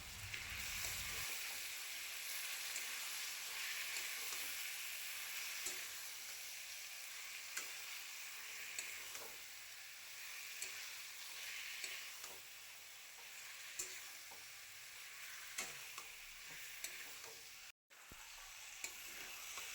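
Mushroom masala fries in a pan with a soft, continuous sizzle and frequent scraping stirs, fairly quiet and close, with one brief dropout near the end.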